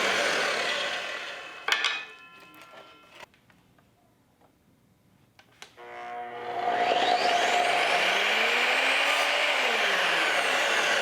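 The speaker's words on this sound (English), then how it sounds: "Here I'm just cutting through some 1/4 round to finish up along the flooring inside my house." An Evolution R255 sliding miter saw cuts quarter round wood trim for flooring indoors. The motor whines up, bites briefly through the wood, then winds down to quiet before spinning up again into a loud, steady, close whine.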